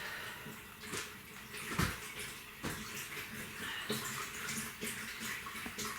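Water runs into a container for washing at a modest level, with a steady trickle broken by a few sharper splashes and clunks, no voices.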